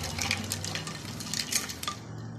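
A spoon stirs watermelon sharbat in a glass or pot, giving light clinking and scraping against the container with soft liquid swirling, close and alone.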